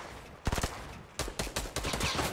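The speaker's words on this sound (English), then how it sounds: "Oh, you got sniped from behind." Gunfire in the Fortnite video game, with a sniper shot among the bursts: two clusters of sharp rapid shots, the first short and punchy, the second longer and more ragged, all fairly close and loud.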